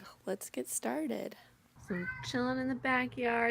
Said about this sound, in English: That's just my cat crying.